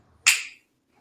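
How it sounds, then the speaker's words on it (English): A single crisp finger snap, close and sharp, with a quick bright attack that fades within a fraction of a second into quiet. "Snap your fingers, coming back into the space."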